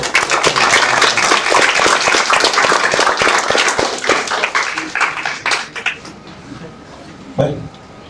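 Dense applause from a crowd, loud and sustained, thinning out toward the end with a few scattered claps.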